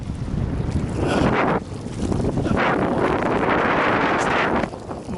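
Strong wind buffets the microphone at a lake during fly fishing at Big Meadows Reservoir, Colorado, roaring steadily and loudly in broad gusts across the whole stretch with no voices.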